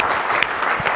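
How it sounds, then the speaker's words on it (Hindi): Clapping in a courtroom comedy skit, dense and steady for about a second with a couple of sharper claps standing out, moderately loud and without speech. "मैं ताली बजाऊंगा"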